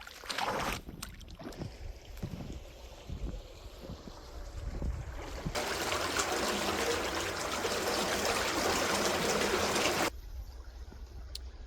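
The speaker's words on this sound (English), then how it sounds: "The water's going out to our retaining pond." Drained flood water pours out toward a retaining pond, trickling and splashing with gusts of wind noise, then swelling into a louder steady rush for several seconds before easing back.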